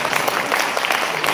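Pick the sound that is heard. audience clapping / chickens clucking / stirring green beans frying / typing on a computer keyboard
audience clapping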